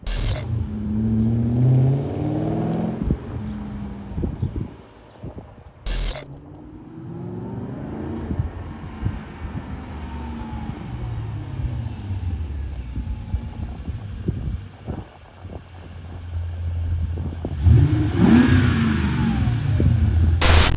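A BMW E34 540i with new coilover suspension rolls back and forth nearby, its engine rising and falling through several revs and pulls, loud and continuous with a few sharp mechanical thumps.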